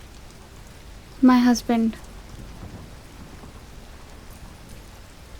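Steady evening rain pours down in a continuous wash, with someone briefly speaking over it before the rain carries on alone.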